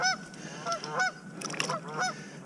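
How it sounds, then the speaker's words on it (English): Goose honking repeatedly at a beaver-trapping spot by the water in spring, several close, loud nasal honks in an uneven rhythm, with a brief flurry of noise midway. "Oh, settle down, goose."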